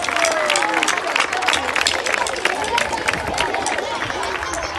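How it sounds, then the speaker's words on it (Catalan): Loud, sustained applause for teachers at a school Sant Jordi celebration fills the space, with many hands clapping densely under a murmur of crowd chatter. "Els hi fem un fort aplaudiment per aquest superball que ens han preparat"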